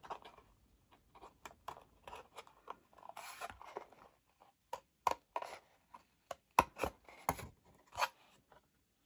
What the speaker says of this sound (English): your circles can get cut out just like this too